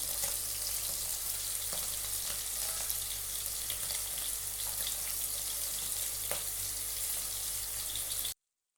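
Paneer cubes frying in ghee in a pan for a paneer ghee roast, a loud continuous sizzle close up with small pops and spatters throughout and no talking.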